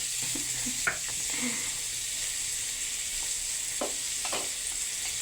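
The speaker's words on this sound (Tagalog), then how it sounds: "magisa ka lang ng sibuyas, bawang, kamatis" Onion, garlic and tomato sizzle steadily in a pan for sautéed sponge gourd, a constant hiss broken by a few light clinks of a spatula and faint background voices.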